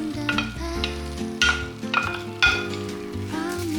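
Vegetables and shrimp hiss and sizzle in a pan for Cajun shrimp and chicken pasta, with several sharp scraping stirs and utensil clinks rising above a steady close frying bed.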